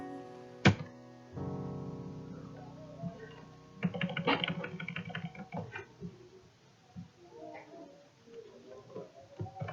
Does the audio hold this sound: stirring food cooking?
no